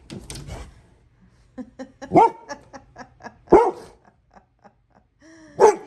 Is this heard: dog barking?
yes